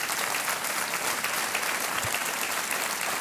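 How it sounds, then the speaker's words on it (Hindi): A studio audience on a TV quiz show applauds a contestant, with steady, dense clapping that stays loud and continuous throughout. "तालियां बजती रहे सौमेन सिंह जी के लिए।"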